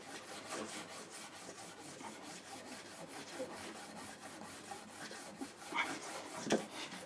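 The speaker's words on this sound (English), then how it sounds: "So we're going to rub our honing compound on like this." Honing compound rubbed onto a leather strop in a woodworking shop, giving a steady, close, broadband scrubbing sound in repeated strokes with no talking, and a couple of sharper clicks near the end.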